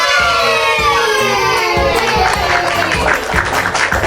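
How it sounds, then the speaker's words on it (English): Children's crowd clapping and cheering in a bright, energetic burst, loud and close, mixed with high voices and cheerful background music. "Now give yourself a big clap"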